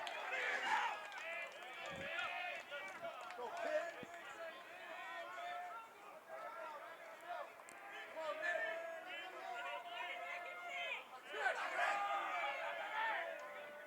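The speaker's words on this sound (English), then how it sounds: "Crowd making a lot of noise here at the Castle" Baseball crowd at the Castle ballpark, a steady babble of cheering and chatter under a commentator's voice, swelling at moments, with the noise running continuously throughout.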